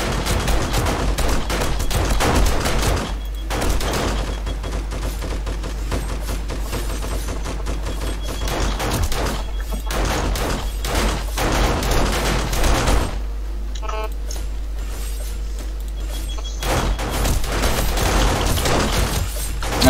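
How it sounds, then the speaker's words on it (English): Automated turrets in 7 Days to Die fire sustained, rapid bursts of gunfire during a Blood Moon horde night, loud and dense with brief pauses between volleys. "I've just got my two little turrets doing their best while I top some of these up with ammo"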